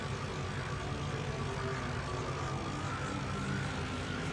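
Airplane engine in the video game Sky Odyssey throttling down as the plane circles to line up with the runway for landing, a steady broadband drone holding at even loudness throughout, close and continuous.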